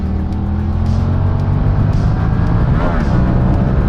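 A 2017 Yamaha MT-07 motorcycle engine revs hard during an uphill wheelie attempt, a loud, close, continuous drone with rushing wind throughout.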